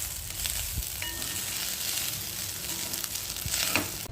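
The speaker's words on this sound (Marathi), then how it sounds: "आता थोडी साखर घालायची आहे आणि छान परतून घ्यायचं आहे" Vegetable pulao sautéed in a pan after lemon juice and sugar go in, a soft steady sizzle with occasional clinks and scrapes of a spoon stirring.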